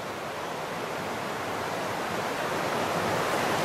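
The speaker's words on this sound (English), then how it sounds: "Hope you guys can hear us over top of the roar of the river." A river roars nearby, a dense, constant broadband rush that fills the whole stretch with no breaks and no voices.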